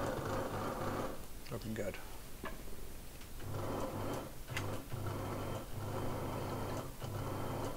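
The bobbin winder on an Elna Air Electronic sewing machine runs in short bursts, a steady motor whir that starts and stops several times while a person speaks briefly between runs.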